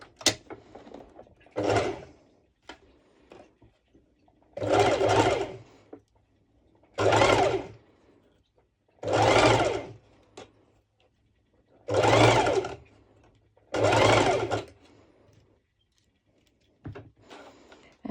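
Short, separate bursts of a sewing machine stitching two layers of fabric together, each run lasting about a second with quiet gaps between, close by and with no talking.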